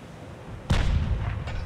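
Naval guns firing in the warship game Ultimate Admiral: Dreadnoughts, featuring CSS Virginia: one loud, booming artillery blast with a rumbling tail, followed by a fainter second report.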